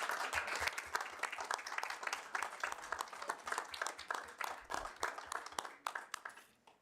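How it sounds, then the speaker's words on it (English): An audience at a Blackfalds town council meeting applauds members of the Blackfalds Fire Department, with sharp, overlapping claps forming a strong, sustained ovation that gradually thins and fades out toward the end. "please join me by applauding all these remarkable individuals for their tireless dedication to the Blackfalds Fire"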